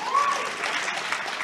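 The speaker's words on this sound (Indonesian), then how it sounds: "Tepuk tangan buat kita semuanya." Short burst of audience applause at an Indonesian discussion forum on book-system legislation, dense clapping filling the room briefly with a hint of voices beneath.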